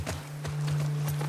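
Horses' hooves clip-clop in a steady rhythm of several close hoofbeats in The Last of Us Part II video game, over a constant low electrical hum, with no voices.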